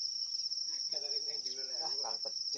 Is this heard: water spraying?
no